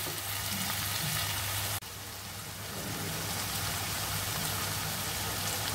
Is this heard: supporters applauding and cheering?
no